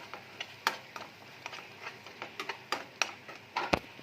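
A cooking mixture fries in hot oil in a pan, giving scattered sharp crackles and pops over a faint, steady sizzle. The sound is close and sparse, and no one talks.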